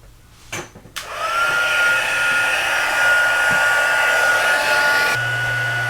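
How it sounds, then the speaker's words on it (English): A heat gun for embossing powder on a card clicks on and then blows with a loud, steady, close whine and rush of air that runs continuously to the end. "And I'm going to start my heat gun."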